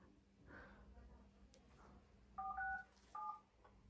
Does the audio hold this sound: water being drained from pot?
no